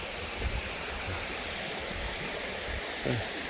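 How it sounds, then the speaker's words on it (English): Steady, close rush of a stream flowing downhill on the Appalachian Trail near Manchester, Vermont, a constant broadband wash, a few soft low gurgles breaking through now and then. "Water just coming on down from there"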